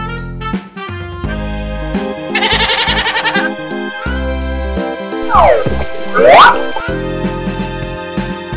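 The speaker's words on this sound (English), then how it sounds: "goat." A goat's trembling, quavering bleat sounds for about a second over bouncy children's background music, followed later by swooping whoosh effects.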